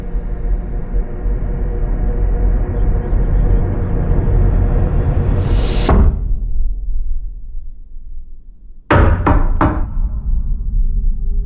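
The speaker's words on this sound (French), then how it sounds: "On a les 3 coups à la porte de la cabine." Three sharp knocks strike a cabin door in quick succession after a loud rumbling swell cuts abruptly to near silence, the thuds close and heavy with lingering resonance.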